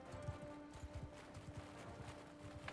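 Cavalry horse hooves gallop in a video game, a quick rhythmic clip-clop pattern of soft thuds repeating steadily, faint and low in level under a light background hum.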